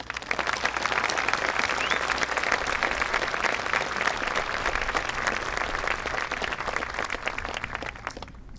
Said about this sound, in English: giving this particularly resilient class, especially those who had to endure Coffin's Calc class, a big round of applause